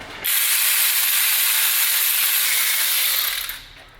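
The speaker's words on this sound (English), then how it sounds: "Now we're going to use a 10mm with an extension to remove the Haldex pump." A ratchet with a 10mm socket and extension works loose the Haldex pump bolts on an Audi A3, heard as a continuous close, bright whirring rasp lasting a few seconds before tapering off.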